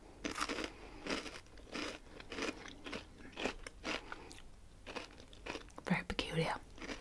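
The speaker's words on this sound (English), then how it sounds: "It's like I'm eating chocolate between two crisps." Crisps coated with chocolate crunched and bitten close to the mic in repeated crisp bursts, with soft whispering between bites.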